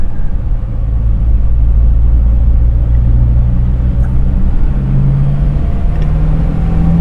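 A Toyota Kijang Super 5K engine runs during a carburetor secondary throttle test, giving a loud, close, steady low rumble with slight rises in revs and no talking.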